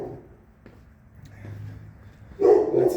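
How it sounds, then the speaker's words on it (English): A big dog on a street in a southern Italian town lets out a short burst of barking near the end, moderately loud after a quieter stretch of street ambience. "There is a big dog over there, so let's go the other way."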